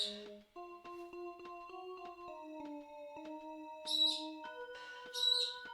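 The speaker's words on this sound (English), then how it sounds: "I don't know if you can hear my bird in the background" A pet bird chirps in a room where a synthesizer jam plays: two short, bright chirps near the end, heard faintly over sustained electronic notes and soft clicks.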